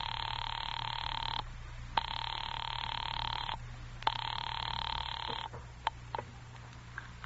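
An old-fashioned telephone bell rings in a vintage suspense radio drama: three long, loud rings separated by short pauses, followed by a few faint clicks.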